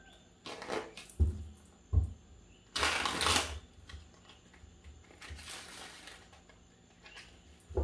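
Tarot cards being shuffled nearby in several bursts of riffling and flicking, with soft taps and quiet pauses between them.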